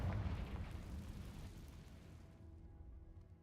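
A Confringo spell explosion in the Hogwarts Legacy video game bursts loudly at the start as a deep, broad boom, then rumbles and fades over a few seconds with no voices.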